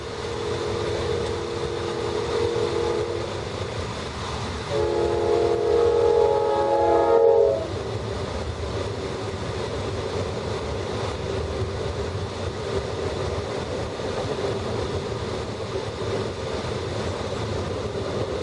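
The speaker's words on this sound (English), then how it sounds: "Short train." Short train passing a level crossing, a steady rumble with a loud multi-tone horn blast held for a few seconds midway, then continuing rolling noise alone with no talk.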